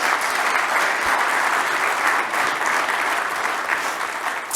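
An audience at an executive keynote in Geneva applauds in a dense, sustained burst of clapping that holds steady for several seconds, loud and full with no talk over it.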